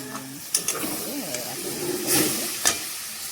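Greens frying in a pan give a soft sizzle, broken by a few sharp knocks and scrapes of a utensil, with faint voice-like sounds in the background.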